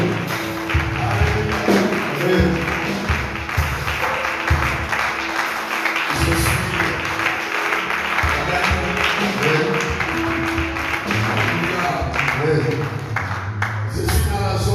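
A church congregation applauds and cheers in praise of the Lord, a dense continuous wash of clapping and crowd voices that stays loud and steady throughout, with speech mixed in.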